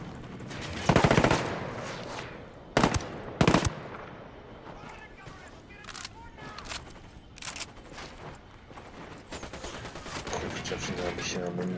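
Automatic gunfire in the tactical shooter Ghost Recon Wildlands, with loud bursts near the start and around three seconds, then quieter scattered shots and a busy background of combat sounds.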